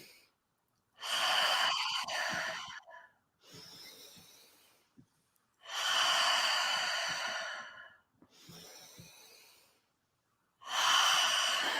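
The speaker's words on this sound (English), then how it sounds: "expanding the chest on the inhale, and just releasing like a sigh on the exhale" Slow, deep breathwork, long airy inhales alternating with released sighing exhales, close and loud with quiet pauses between each breath, five cycles in all.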